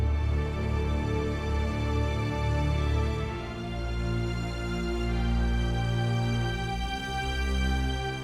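A full string section from the Mass Effect 2 score, cellos joining violins and violas, swells with deep sustained low notes beneath layered higher lines. The playing is loud, dense and continuous, with no voices over it.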